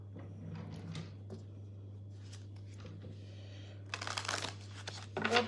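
Romance angel cards being shuffled, soft papery riffles and slides over a steady low hum, growing louder in bursts near the end.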